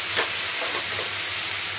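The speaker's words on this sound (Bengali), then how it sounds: "আমি এই সিস্টেমে মাছ ভেজে খাই" Fish sizzles steadily in hot oil with a little ghee, a close, even hiss with faint crackles, no talking.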